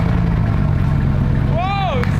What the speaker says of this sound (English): when they turn the key, the Bugatti starts.